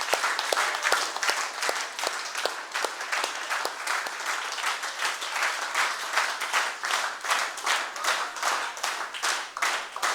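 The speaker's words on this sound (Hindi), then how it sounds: "हमारे ऑर्गेनाइजिंग सेक्रेटरी दिनेश गौर जी के लिए जोरदार तालियां।" Students and guests at a yoga workshop in a school hall in Aligarh give a lively round of clapping for the organizing secretary, with dense, crisp hand claps at a fairly steady pace continuing for about ten seconds.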